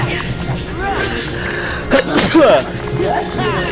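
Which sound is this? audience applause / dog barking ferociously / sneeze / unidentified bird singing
sneeze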